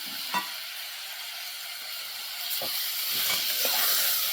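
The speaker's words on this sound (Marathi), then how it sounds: "5 मिनिटं हिला अशी कांद्यामध्ये हलवून घेऊया आपण भाजी" Chopped raw spinach gets stirred with onions in a pan, producing a soft hiss of frying with a few scattered scraping strokes that grow slightly louder toward the end.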